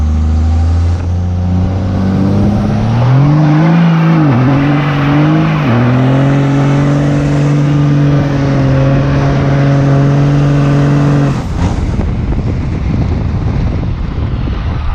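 Diesel truck with nitrous, two-wheel drive and nearly flat tires doing a rolling burnout, engine roaring loudly and climbing through sustained high revs, then breaking into rough, noisy rumbling near the end amid wind noise.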